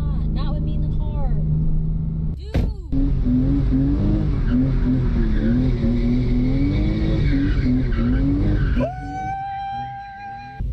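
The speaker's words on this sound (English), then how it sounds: "I'm gonna do a donut right here." A car doing a donut, with a loud engine revving steadily and tires skidding and squealing throughout, while people talk in the car.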